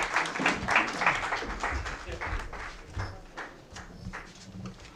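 An audience at a poetry gathering applauds to welcome the poet Sardar Salim, a rolling wash of clapping that starts strong and gradually thins, mixed with voices in the crowd.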